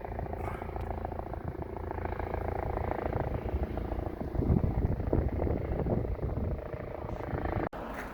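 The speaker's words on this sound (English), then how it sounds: "There's the police helicopter." A police helicopter passes over a country walking path near a tower, its low rotor rumble droning steadily beneath gusty wind noise on the microphone.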